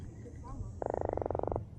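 A freshly caught croaker fish, landed while vacation fishing in Destin, lets out one close, rapid pulsed croak lasting under a second against faint outdoor background noise.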